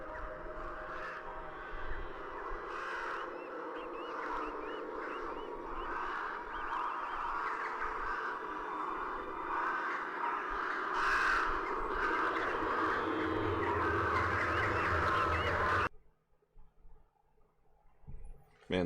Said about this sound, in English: Man, the birds are throwing a fit today.